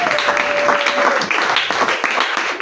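A church congregation at a Sunday service claps and cheers to acclaim the name of Jesus, dense continuous applause filling the room with voices mixed in.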